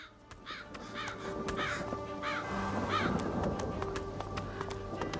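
A crow caws repeatedly in the video game Divinity Original Sin 2, a string of raspy calls spaced through the scene over a low ambient game background.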